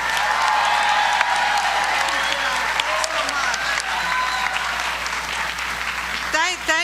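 A crowd at a New York political event led by the governor applauds Congresswoman Maloney with sustained, dense clapping, while a voice carries over it from a loudspeaker and the clapping thins out near the end.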